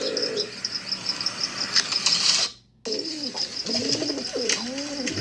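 Pigeons coo at a Christmas Eve bird toss held at an auction, low throaty calls repeating near and moderately loud over a steady insect-like hiss, which cuts out briefly midway before the cooing resumes.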